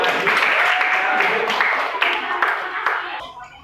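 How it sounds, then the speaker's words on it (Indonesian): A class applauds a student group after their presentation in an online teaching-practice lesson, steady clapping from a small room of students that fades out toward the end, with a faint voice underneath. "Tepuk tangan buat kelompok yang lagi."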